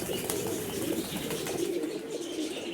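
Mykolaiv pigeons coo steadily in a low, throaty, overlapping murmur, close and continuous throughout, with no voices.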